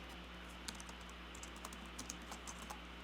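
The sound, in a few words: typing on a computer keyboard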